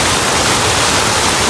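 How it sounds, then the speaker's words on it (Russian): Water streaming from the mouths of dog statues in a fountain, a loud, close, continuous rushing splash with no pauses. "И из пасти каждой собачки струя воды."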